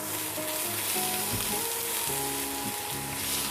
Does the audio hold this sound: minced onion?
yes